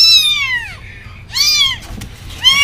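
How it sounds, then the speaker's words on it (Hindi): Hungry orphan kitten meowing loudly and close, three high, drawn-out cries with short pauses between them over faint room noise. "फ्लैश अंदर से बहुत आवाज़ दे रहा है, तो भूख लग रहा होगा"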